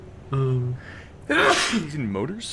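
A single sharp, breathy sneeze bursts out loud and close, with a person talking just before and after it.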